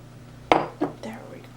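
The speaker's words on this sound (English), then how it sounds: "The last thing we have to do is stir in our raspberries." Fresh raspberries stirred into a meal prep dish, giving a few soft clinks and scrapes of a spoon against the container, one sharper tap followed by two quieter ones, close and fairly faint.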